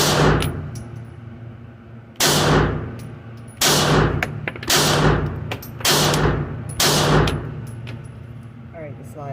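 Six sharp Glock 42 pistol shots ring out at a shooting range, spaced roughly a second or more apart, each a loud crack with a ringing tail over steady background noise.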